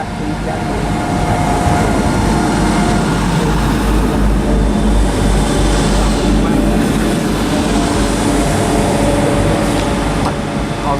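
Class 175 diesel train 175010, two carriages, departing along a station platform: a loud, continuous engine rumble and rolling noise sustained throughout, close by, with no clear speech.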